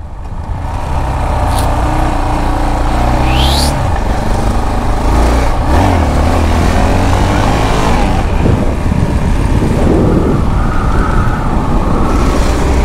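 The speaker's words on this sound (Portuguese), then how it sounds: "X3zona estralando" Yamaha XT660 motorcycle running loud and close, its engine drone steady throughout with rough, crackling exhaust texture and a brief whistling tone near the start.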